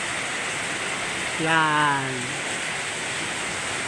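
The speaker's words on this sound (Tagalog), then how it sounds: "Ang buhos ng ulan ay tuloy-tuloy." Heavy rain pours steadily in Dasmariñas, Cavite, a dense, unbroken hiss that fills the whole clip while someone speaks briefly over it partway through.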